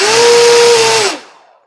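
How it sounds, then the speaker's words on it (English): Small electric motor and propeller on a 1 m wingspan EPP foam RC trainer plane run up to a steady loud whine with a strong airy hiss for about a second, then cut off and spin down quickly to silence. "Have a little prop test."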